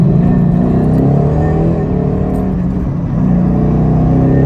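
A Ford Mustang with the Coyote engine drones steadily from inside the car while being driven and shifted through the gears, with a brief dip in level near the middle.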